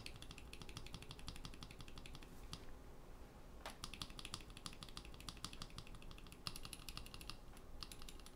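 Lubed Novelkeys Cream mechanical keyboard switches typed in a rapid, dense run of soft clacks, close up and fairly quiet, with two short pauses in the flow and no voices.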